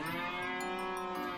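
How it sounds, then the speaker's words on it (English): A cow on a farm lets out one long, steady, droning moo, close and clear, with no other sounds around it. "This is the sound of the cow."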